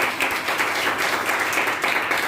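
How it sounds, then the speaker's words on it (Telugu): A church congregation clapping during a sermon, a dense, steady wash of many hands applauding together, fairly loud and continuous for a couple of seconds. "చప్పట్లు కొట్టండి, హల్లెలూయా."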